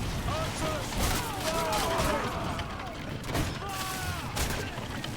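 An archers' fire volley in Ryse: Son of Rome, heard as a dense burst of battle impacts and whooshing volleys amid clashing combat noise, with people talking over it.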